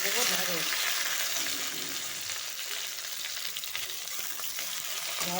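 Okra fries in hot oil in a wok with a loud, continuous sizzle and the scrape of stirring, and faint voice-like tones come in at the start and end.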